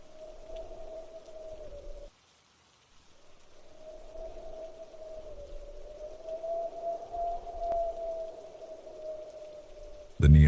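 Steady rain falls as a soft, continuous patter at a moderate level, with a sustained tone running through it and a short near-silent gap partway.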